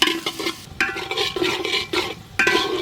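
Finely chopped onions fry in oil in a pot with whole spices while being stirred, with repeated bursts of scraping and sizzling rising and falling in an uneven rhythm close by.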